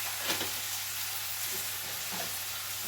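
Tomato pieces fry in a hot pan with a steady, loud sizzle and crackle, with a few soft stirring scrapes and no voices.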